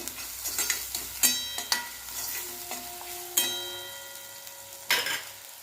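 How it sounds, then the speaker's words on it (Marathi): Onion and ground masala paste frying in a pan for a cauliflower and pea curry, with sizzling oil under sharp spoon stirs and clinks against the metal pan, close and clear, no talking. "आता हे वाटण टाकूया याच्यामध्ये आणि कांदा छान भाजून घेऊया"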